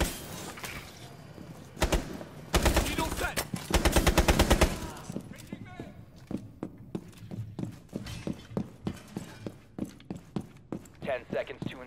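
Rapid automatic gunfire rattles in bursts during Rainbow Six Siege gameplay, followed by quicker spaced shots and footsteps, with voiced game lines in between.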